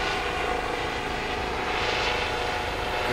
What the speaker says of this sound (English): Here we got a helicopter coming into Riddle Hospital for a landing